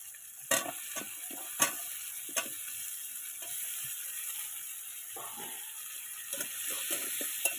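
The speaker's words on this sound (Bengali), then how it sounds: "পেঁয়াজ থেকে তেল ছাড়া শুরু করলেই এর মধ্যে দিয়ে দিলাম কেটে রাখা আলুগুলো" Cut potatoes frying with softened onion and tomato in oil, a soft continuous sizzle punctuated by sharp spatula clicks and scrapes against the pan; no talking.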